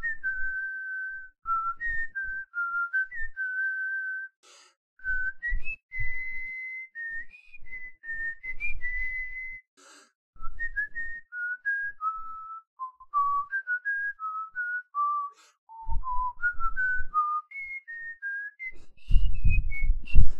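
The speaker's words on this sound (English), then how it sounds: "Maybe whistling. I'm not too bad with whistling." A man whistles a wandering melody alone, reaching up into a high register with steady held notes and short pauses, with a few soft breaths and handling bumps near the end.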